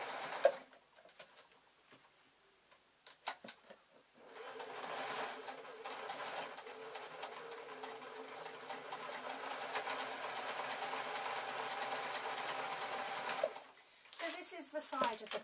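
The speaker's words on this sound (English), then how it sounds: "I'm going to sew up the bottom, and then I'm just literally going to sew around the outside" A sewing machine stitches around the outside of a red felt bag, running in a long, steady whirring stretch of about ten seconds, fairly close and moderately quiet, with brief handling noises before and after.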